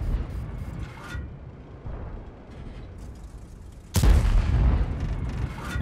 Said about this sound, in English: I'm missing every single shot over there